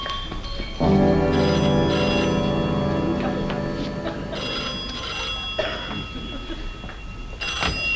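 An old-fashioned telephone bell rings loudly and steadily in a domestic interior, a continuous metallic trill lasting several seconds with faint background sound.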